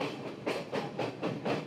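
A passenger train on the hill line between Nuwara Eliya and Ella begins moving, its wheels giving a regular clickety-clack of repeated beats over rails, moderately loud and unaccompanied by voices.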